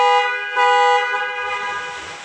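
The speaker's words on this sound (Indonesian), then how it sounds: "Klakson berfungsi dengan baik." A car horn pressed during a vehicle inspection, sounding loud and near as two blasts in close succession with a brief dip between, then fading slightly at the end.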